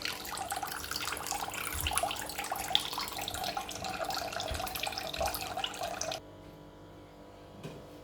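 Cold water runs steadily from a kitchen tap into a sink for about six seconds before being shut off, leaving faint room noise and a small clink.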